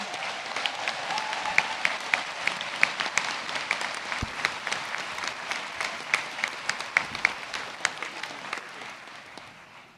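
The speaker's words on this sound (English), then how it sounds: "give yourselves a good round of applause" Graduates at a university conferring ceremony applaud in a large hall, a steady wash of many hands with distinct nearby claps standing out, gradually tapering toward the end.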